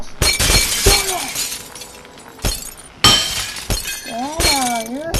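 Glass shatters in the Happy Wheels video game, with sharp breaking crashes at intervals. Cartoonish voices talk over and between the crashes.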